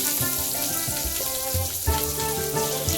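Onion added to hot oil with mustard seeds, cumin and curry leaves in a kadai, a dense, loud, steady sizzle and crackle close up, unbroken for a few seconds with no voices.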